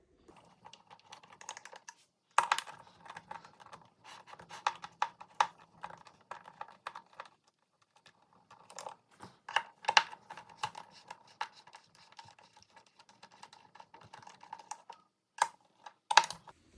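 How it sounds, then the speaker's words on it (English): Small screws being carefully turned out of a battery compartment, close, quiet scratchy clicks and ticks in irregular runs with brief pauses, no talk. "you get to watch me unscrew all 4 of them carefully"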